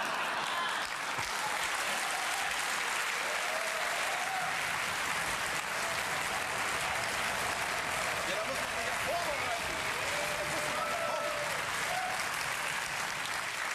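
A television studio audience at a German political comedy show applauds in a sustained, even wash of clapping for the whole stretch, while a voice talks faintly under it.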